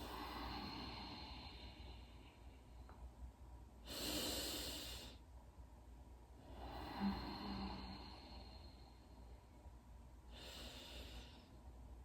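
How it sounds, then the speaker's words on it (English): Slow, deep breaths drawn in and let out, with three long airy inhale-exhale swells spaced evenly apart over quiet background hum, close and soft. "Inhale again. Exhale."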